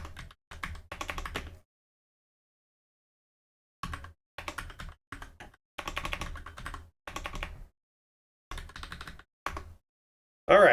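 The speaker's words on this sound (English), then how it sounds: "I'm typing right now." Typing on a computer keyboard comes in bursts of quick close clicks, separated by pauses and a long silent gap, with no talking.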